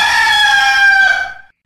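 A single rooster crow used as a podcast intro effect, loud and close, a sustained bright cock-a-doodle-doo that tapers off and ends in silence.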